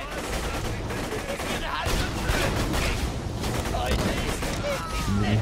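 Rapid pistol fire in the video game Borderlands 2, a dense barrage of sharp repeated shots with loud booms running throughout, mixed over game sound effects.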